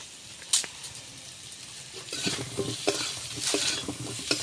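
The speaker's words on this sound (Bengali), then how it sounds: "আমি এই পটলটা একটু লালসা করে ভেজে নেই" Pointed gourd pieces fry in oil with turmeric and salt, a steady sizzle broken by spatula scrapes and stirring taps that grow busier and louder partway through.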